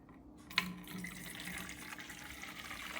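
Water pours into a container with a steady splashing trickle, starting with a small clunk, fairly close and moderately quiet.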